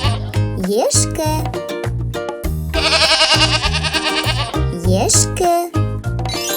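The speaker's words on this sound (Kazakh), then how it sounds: "Ешкі үй жануарына жатады." Close, loud bleating from a domestic goat: brief cries open and close the stretch, while a long, wavering, tremulous bleat fills the middle, set against a repetitive, pulsing bass rhythm throughout.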